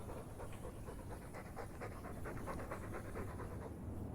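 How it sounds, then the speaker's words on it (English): A dog pants steadily and quickly, its rhythmic breaths close and fairly soft over a constant background hiss, with no other voices. "All that noisy dog breath, day in, day out."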